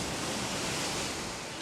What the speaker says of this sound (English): He panicked and fell backwards under the crashing waves.